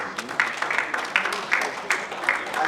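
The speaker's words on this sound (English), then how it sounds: "Please, can we give them a round of applause?" Audience applause at a university engineering class reunion dinner in a hotel banquet hall, a fairly steady patter of clapping with rhythmic louder bursts and some murmuring voices underneath.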